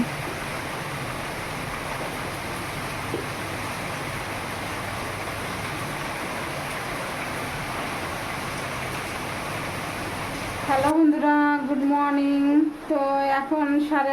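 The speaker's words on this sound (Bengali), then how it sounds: "বাইরে বৃষ্টি হচ্ছে" Steady broadband rush of heavy rain falling outside during a prolonged low-pressure downpour in Asansol, continuous for about eleven seconds before abruptly giving way to a brief, louder tonal sound near the end.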